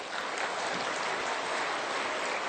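A church congregation applauds during a Sunday sermon, a dense, even wash of clapping that fills the room at a steady level from start to finish.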